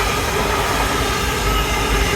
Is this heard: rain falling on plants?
no